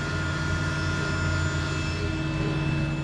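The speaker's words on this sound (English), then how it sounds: "There is a fan inside that's blowing, and what I did is I just tied it into an existing exhaust fan that I have." Internal fan of an xTool M1 laser engraver tied into an exhaust blower while engraving a pine wafer, a steady close-up whirring drone with constant tonal hum and no speech.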